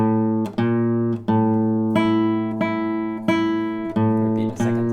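A guitar plays the opening two phrases of the grade-one piece Spanish Knights, starting on the open fifth string: a steady series of plucked notes, each ringing clearly with sustain before the next attack, played alone without talk.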